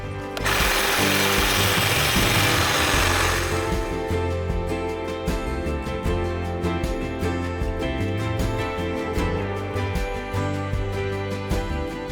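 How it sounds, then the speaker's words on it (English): A DeWalt hedge trimmer cuts through an old overgrown boxwood hedge, a loud steady buzzing motor with a burst of brushy chopping at the start, then continuing close and unbroken with no talking. "I love this DeWalt hedge trimmer. Works really, really well and makes fast work"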